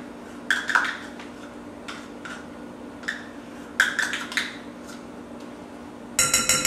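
Miracle Whip scooped out of a measuring cup into a glass bowl over cream cheese, heard as scattered clinks and scrapes of utensil against glass and cup, fairly close, with a brighter clatter of dishware at the end.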